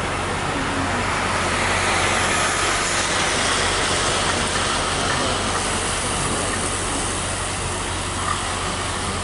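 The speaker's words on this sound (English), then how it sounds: "There's another train." A subway train at an Ottawa station gives off a loud, steady roar with hiss and low rumble that fills the whole stretch without letup.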